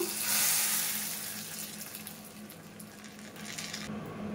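Hot tempering with curry leaves hits a pot of pappu charu, a burst of sizzling that swells briefly, then settles into a softer steady hiss and bubbling.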